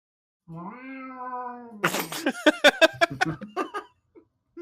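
A human voice imitates a cat with a drawn-out, rising meow, then breaks into a quick run of giggling bursts that trail off into quiet.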